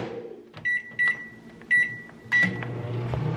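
Microwave oven beeps sound in several short bursts, then a low hum of the running oven rises toward the end, fairly close.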